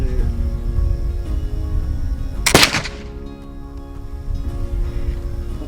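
A Kibler southern mountain rifle loaded with a 30-grain powder charge fires one loud, sharp shot outdoors, a single sudden crack with a short decaying tail over steady wind noise.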